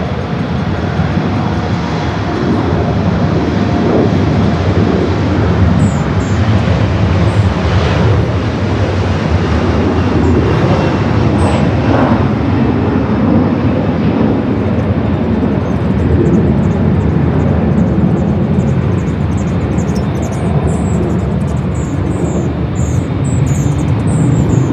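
An airliner rolls down LAX runway 24 left on its takeoff run for a flight to Medford, Oregon: a broad, steady roar of jet engines and rushing noise, loud and unbroken throughout, with faint chirps near the end.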